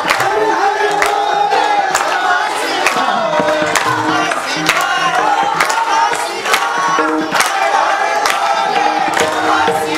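Loud, sustained chanting from a kirtan congregation, with many voices singing together over steady clapping that lands in clear repeated beats across the whole stretch, dense and close.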